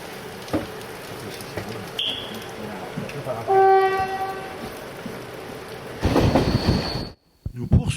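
A passenger train on the Bar–Belgrade line rolls along the rails with a steady low rumble; a short, clear horn-like tone rings out midway, and the rumbling swells louder near the end.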